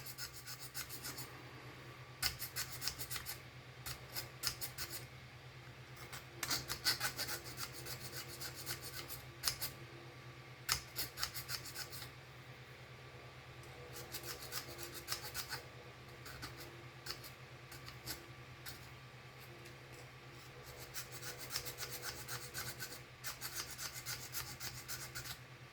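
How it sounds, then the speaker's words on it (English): A file rasps at plastic flash on a Nerf Hammershot blaster in short, faint, repeated strokes with brief pauses, over a steady low hum and no talking. "sanding away at it, filing away at it"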